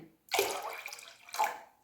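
Plain water poured from a cup into a pot of brine from fermented cucumbers, in two short splashing pours with a brief pause between, close and fairly soft.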